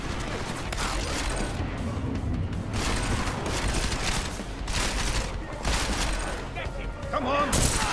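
Dense, continuous gunfire from a shooter video game pounds through the whole stretch, loud and rapid with booming hits, while voices talk over it.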